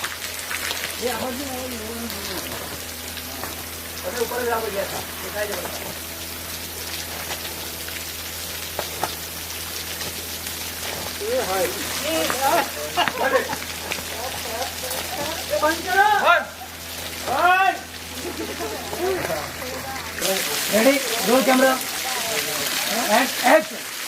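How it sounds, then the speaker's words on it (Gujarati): Artificial rain pours steadily on a song shoot set, a continuous hiss of falling water under several people talking and calling out throughout. "ક્લોઝ કેમેરા એન્ડ એક્શન ચાલો વરસાદ પાડો"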